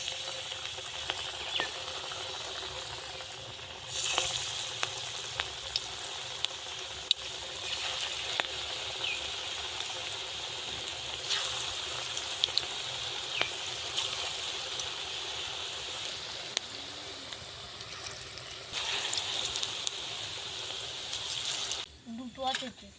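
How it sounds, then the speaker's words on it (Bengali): Cabbage pakoras fry in hot oil with a steady soft sizzle and bubbling, close and fairly quiet, while a voice talks over it and occasional light clicks and taps sound. "তেলটা গরম হয়ে গেছে, এবার আমি ছোট ছোট করে পকোড়ার মতন করে তেলে ছেড়ে দেবো।"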